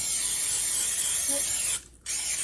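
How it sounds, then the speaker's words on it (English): A steady, close hiss of cooking oil spray onto bread dough runs almost continuously, breaking off briefly near the end before resuming. "I got my spray pan and I spray the top"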